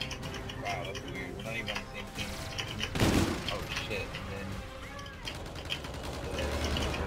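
Chain gun fire in Call of Duty: Infinite Warfare, a rapid mechanical rattle of shots sustained throughout with a louder burst partway in, while a person talks over it.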